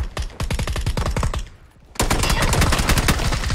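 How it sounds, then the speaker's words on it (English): Rapid automatic gunfire in a multiplayer shooter game, dense bursts of shots that pause briefly, then resume as a louder, continuous barrage close by. "Where are they shooting at me?"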